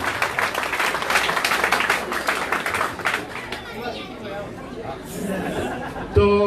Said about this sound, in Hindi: तालियों से धन्यवाद दें ढोलक वादक को भी।